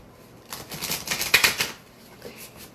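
Tarot cards are riffled and shuffled by hand in a quiet room, a quick burst of crisp papery flicks and clicks lasting about a second before fading back to near silence.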